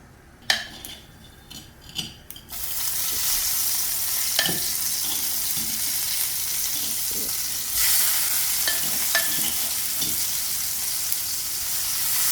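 Mustard seeds crackle in hot coconut oil in a pan, with a few utensil clinks at first, then a steady close sizzle dotted with small pops.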